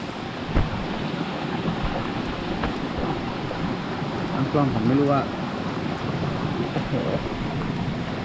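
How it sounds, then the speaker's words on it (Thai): Heavy rain pouring steadily during a trip through hilly country with flash flooding, a broad constant wash of noise with faint rumbles, while someone speaks briefly near the recording device. "ฝนตกหนักเลยทีนี้ยาวเลย"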